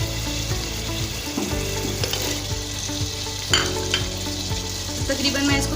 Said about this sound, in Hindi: आलू क्यूब शेप की कटिंग, थोड़े बड़े बड़े आलू की कटिंग की है, वो इसके अंदर मैं ऐड करके तो थोड़ी देर भून लूँगी